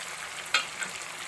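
Pieces of kera fish frying in hot oil for a Kerala-style fish pickle, a steady soft sizzle with one sharp crackle and a faint pop, close and without voices.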